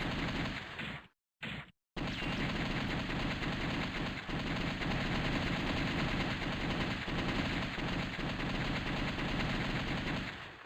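Sustained rapid gunfire in The House of the Dead on PC, a dense continuous rattle of shots with two brief gaps near the start, loud and steady.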